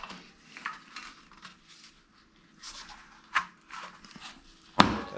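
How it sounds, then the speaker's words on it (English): A tight tire's bead snaps off the small shelf in the wheel rim with one sharp, loud pop near the end, after softer clicks and scraping. "That sound was popping the other bead off the little shelf in the rim."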